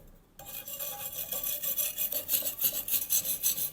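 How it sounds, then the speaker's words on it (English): A wire brush scrapes repeatedly over metal on a homemade bio stove. The strokes are rhythmic, harsh and close, and the sound continues alone without speech. "Then we'll scrape it off with a wire brush."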